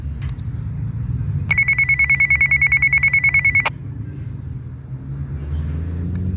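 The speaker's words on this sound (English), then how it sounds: "It's like a nice ringing phone." A Midland XT511 FRS radio's call tone trills in a fast warbling ring for about two seconds, loud and close, over a steady low engine rumble.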